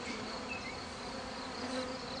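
Honey bees buzz steadily inside a contained hive fitted with an entrance reducer, a dense, continuous hum with no talk.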